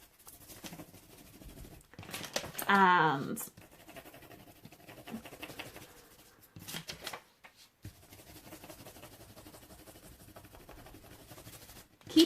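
Crayon rubbed over paper laid on a leaf, bumpy side up, a dry scratchy scraping in repeated strokes, interrupted by a louder burst and someone talking.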